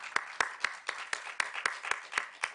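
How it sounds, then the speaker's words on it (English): Audience applause at a world conference on blindness, about ten sharp, evenly spaced claps in a steady rhythm, fairly faint and distant, with no talking over it. "Please a round of applause for him."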